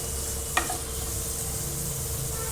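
Paneer sautés in a hot pan with a steady, soft sizzle that holds evenly, broken once by a single sharp utensil click near the start.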